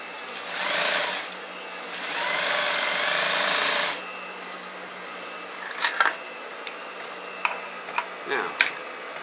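A sewing machine stitches a pocket bag in two short close bursts, followed by scattered clicks and handling taps as the fabric is adjusted.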